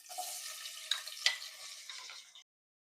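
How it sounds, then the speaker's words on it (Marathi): Hot oil sizzles loudly as onions hit the pan, a steady crackling hiss with a few sharper pops, stopping abruptly after a couple of seconds. "तेल तापलेले, कांदा टाकून घेऊ."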